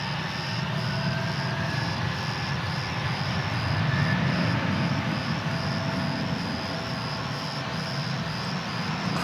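American Airlines airliner taking off from runway 36 right at DFW, a steady broadband engine roar heard from a distance, constant and unbroken with no talk.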